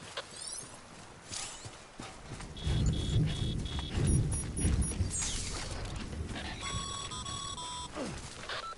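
Timefall rain and rolling thunder in the video game Death Stranding, with a low rumble swelling midway. Bright electronic beeps and tones and a few clopping footfalls sound over the steady downpour.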